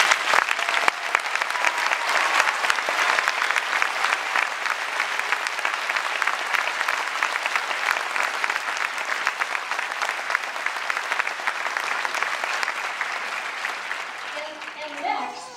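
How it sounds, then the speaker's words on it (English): An audience gives the faculty a sustained round of applause at a Midwestern University white coat ceremony, dense steady clapping from a large crowd that carries on without a break before fading at the end. "I'd like everyone to give them a big thank you and a round of applause"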